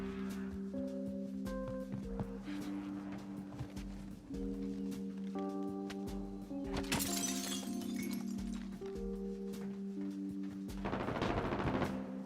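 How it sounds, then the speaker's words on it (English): Warzone battle royale gameplay, with gunfire coming from inside a building. Distant bursts of shots sound over steady in-game music tones and crackle, with a denser stretch of firing midway and again near the end. "I hear shots in the building"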